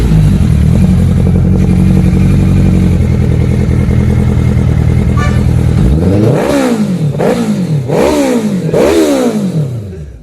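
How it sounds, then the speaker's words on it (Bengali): A Suzuki Hayabusa motorcycle idles close by with a low, steady burble, then is revved hard three or four times in quick succession, each rise and fall loud and sharp before it settles. "গাইস হায়াবুসা বাইকটা দেখো।"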